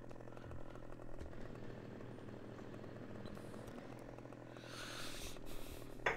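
A chainsaw cutting felled trees in the farming game Farming Simulator 15 drones steadily and moderately loud throughout, with a slight surge near the end and no talk.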